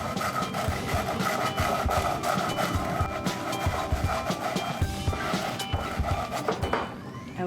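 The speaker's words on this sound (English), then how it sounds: "We're gonna scrub it really hard for about 1 minute until we really get all of that grit off the surface" A bamboo scrubber scrubs salt grit hard across a cast iron skillet, making a continuous close, gritty rasping with quick repeated strokes and no talk.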